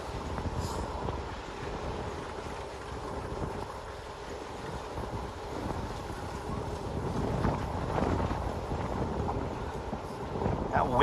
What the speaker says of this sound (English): That wind picking up.